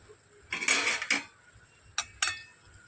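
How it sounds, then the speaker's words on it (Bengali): A lid is lifted off a cooking pan with a close metallic rattle and scrape, followed by two short clinks as it is set aside, in an otherwise quiet kitchen. "এবার আমি ঢাকনাটা খুলে নিচ্ছি।"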